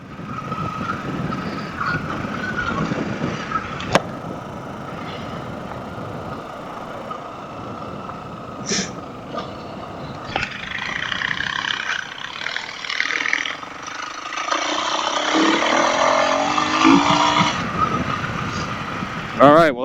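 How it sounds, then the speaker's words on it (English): A 2022 Husqvarna FE 350s motorcycle engine runs while riding outdoors, a steady droning roar with wind rush that swells and rises in pitch toward the end, with a sharp click early and brief louder bursts. "This is how the 350 runs."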